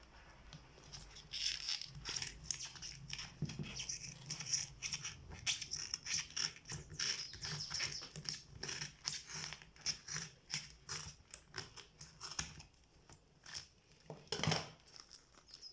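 Sandal material being trimmed by hand, with quiet repeated snipping, crinkling and rustling in short irregular bursts, close and faint, with no talk.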